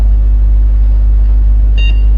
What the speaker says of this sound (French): nous avons entendu déjà un bruit du bon fonctionnement, un bip sonore